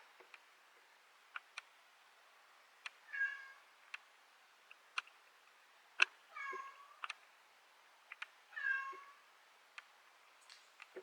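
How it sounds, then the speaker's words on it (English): A cat meows three times in short, separate calls, moderately faint against a quiet room, with scattered sharp clicks and taps between the meows. "Let me go get my cat."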